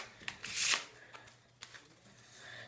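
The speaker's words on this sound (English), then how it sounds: "So you can shuffle the cards as much as you want" A deck of playing cards is shuffled close by: a quick riffling burst, then scattered soft taps and flicks of cards, fairly quiet overall.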